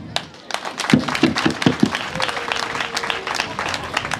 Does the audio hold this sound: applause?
yes